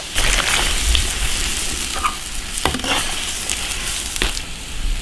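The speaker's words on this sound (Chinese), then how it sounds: "水开了，下菌子，焯个水。" Pine mushrooms going into boiling water in an iron pot for blanching, a steady bubbling, hissing wash with a few sharp clinks and splashes, close and loud, no voices.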